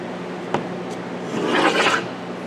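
A Shockwave Blade pistol stabilizer being tightened onto a pistol, with one sharp click followed by a close, rising rasp of rubbing and scraping that swells for about half a second and then fades.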